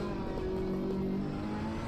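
Race car engine droning steadily through a corner at Bathurst in a PS5 racing game, a continuous mid-level hum with a sustained tonal whine and no voices.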